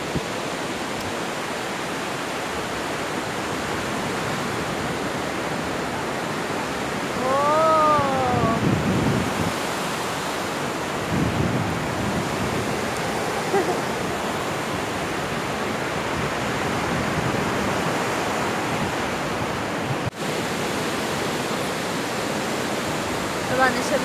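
Sea waves wash steadily on a beach, a constant broad rushing surge with a few louder swells and faint voices in the background.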